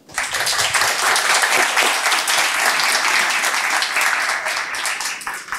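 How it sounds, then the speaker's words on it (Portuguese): An audience applauds steadily at the end of an evening Ethereum bootcamp session on frontend installation, a dense, loud burst of clapping that continues throughout. "palmas pro Gui"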